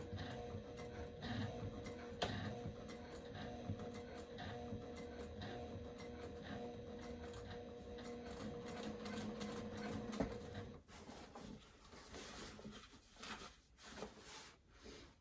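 A sewing machine stitches slowly through thick fabric with a steady, close mechanical whir and hum that runs continuously, then turns into lighter, intermittent handling and clicks near the end.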